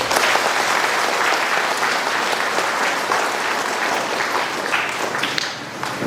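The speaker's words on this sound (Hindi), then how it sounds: "आइए हम सभी सिस्टरों के लिए हम स्वागत हेतु जोरदार ताली बजाते हैं।" A church congregation at the Kapodih Parish feast of St. Alphonsa and St. John Mary Vianney gives sustained, vigorous clapping, a thick even wash of applause that softens slightly near the end.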